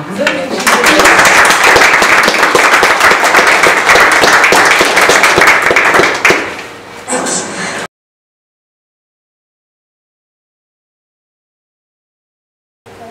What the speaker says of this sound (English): Should we give Alex a clap?